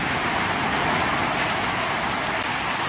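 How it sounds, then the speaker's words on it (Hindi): Heavy rain pours down in a dense, continuous hiss, loud and close, with no talking. "बड़ी हैवी बारिश लग गई है"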